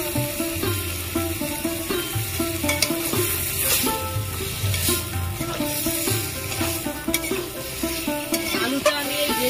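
Potatoes sautéed and stirred in a spicy gravy with sour yogurt for ghugni cooked with mutton fat, a continuous sizzle with repeated scraping stir strokes, close and steady throughout.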